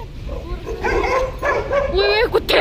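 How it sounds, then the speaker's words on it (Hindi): Stray dogs in a market in Sangla Valley give a run of close yips, whines and short barks over a busy background of voices and crowd noise. "वे कुत्ते आ गए, वे ये है बाजार के आवारा कुत्ते भाई"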